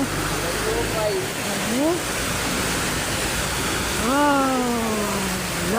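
A strong river current rushing loudly and steadily as a broadband roar, while a person speaks briefly over it.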